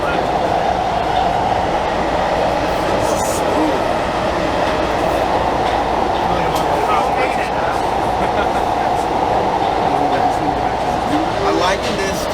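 An LIRR M9 electric train rides toward Grand Central Madison, its cabin filled with a loud, constant rumbling roar of wheels and motors that holds steady throughout, with faint squeals and clicks near the end.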